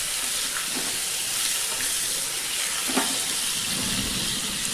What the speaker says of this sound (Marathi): त्याला थोडंसं त्याला तेलात आधी परतून घ्यायचं चांगलं.